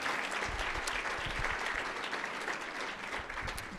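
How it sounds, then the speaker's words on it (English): Brisk audience applause at an awards breakfast, many hands clapping in a dense, even patter that holds for several seconds with no speech over it. "let's give another round of applause to Chancellor Salgado"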